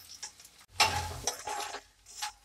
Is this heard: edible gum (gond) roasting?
yes